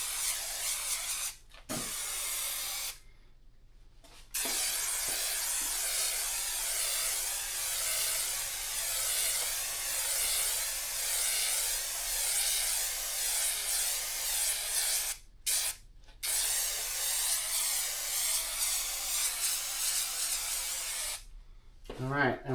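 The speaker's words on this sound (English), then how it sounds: "and we spray the fabric" Long continuous hiss of an aerosol adhesive spray coating fabric for a Mercedes SLK 230 headliner, close and steady, broken by a few short pauses between bursts.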